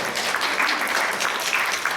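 A church congregation at Sunday worship claps together, brisk steady applause filling the short stretch at fairly close range with no pauses.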